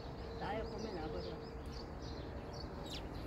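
Birds chirp faintly in a forest garden, small scattered tweets over a steady wash of outdoor background noise.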